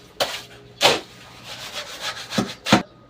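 Construction mortar being mixed with a shovel, heard as a few separate scraping, rubbing strokes at irregular intervals, close by, with no talking.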